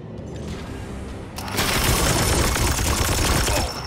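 Gunfire in the Warhammer tactics game Chaos Gate - Daemonhunters, a dense rattling volley that swells partway through and holds loud and close for a couple of seconds, with no voices over it.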